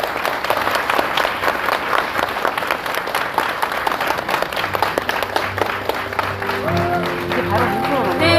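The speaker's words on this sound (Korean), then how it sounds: "큰 박수로 맞이해 주세요" A live health-concert audience bursts into loud, sustained applause to welcome a pharmacist speaker, dense clapping filling the hall while a voice speaks over it near the end.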